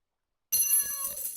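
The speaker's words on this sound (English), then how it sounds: "Why did the cat meow?" Cat meow sound effect in the farming video game Kynseed, a short tonal call that begins abruptly after a moment of silence and rings on for about a second.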